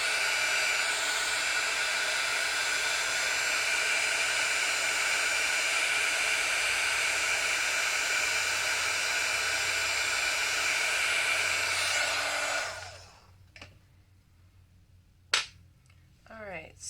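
A heat tool blows steadily to melt scrapbook embossing powder, a loud continuous whooshing hiss with a whine that runs for about twelve seconds and then cuts off, leaving a few small clicks.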